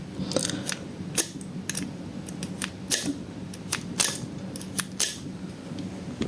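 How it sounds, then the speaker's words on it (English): A lock pick hook is zipped out across the pins of a five-pin lock, producing a run of sharp, close metallic clicks and rattles in irregular quick bursts. "put the hook in there and zip it out to show that you can zip with the hook"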